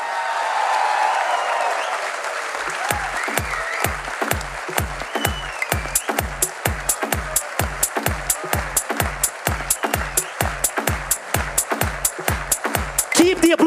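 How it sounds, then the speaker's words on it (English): A crowd at TiECon Mumbai 2016 greets Ratan Tata, first with cheering and murmuring, then with loud, rhythmic synchronized clapping in a steady beat that keeps going and grows stronger. "Keep the applause louder."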